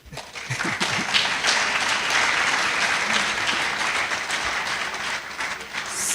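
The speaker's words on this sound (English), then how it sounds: "congratulations again, and applause, a massive applause again" A lecture-hall audience at a university inaugural lecture breaks into loud, sustained applause. The dense clapping swells quickly and holds steady for about six seconds, then begins to ease at the very end.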